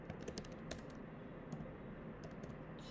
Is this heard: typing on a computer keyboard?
yes